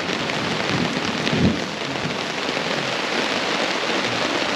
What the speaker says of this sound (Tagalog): Labot na po tayo ng ulan guys dito sa Kapatara.